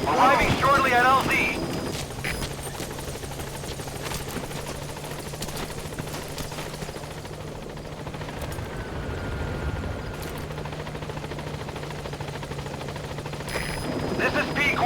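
The support helicopter in Metal Gear Solid V: The Phantom Pain arrives at the landing zone with a steady, loud rotor drone throughout, swelling at the start and end. Radio-style voices talk over it.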